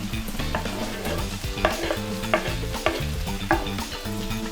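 Sausage frying in a pan with garlic and thyme while the pan is shaken, giving a steady loud sizzle broken by several sharp metallic scrape-and-clatter hits at a regular rhythm, close up with no talking.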